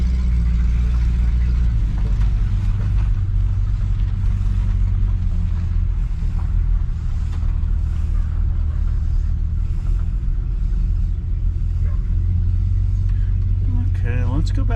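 A 1971 GMC 1500 pickup truck's engine runs just after its first start in 28 years, a loud, steady low rumble with a slightly uneven idle that holds throughout.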